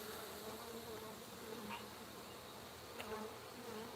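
Honeybees from a Saskatraz hive swarm around an open box during an inspection, a dense, steady buzzing drone filling the air at close range, with a couple of faint clicks.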